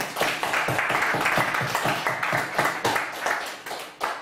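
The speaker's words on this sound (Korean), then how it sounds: "살아계신 하나님을 감사하는 박수로 영광을 드립니다" A church congregation claps together in a rhythmic, fairly loud pattern, distinct hand strikes pulsing at a steady beat for about four seconds.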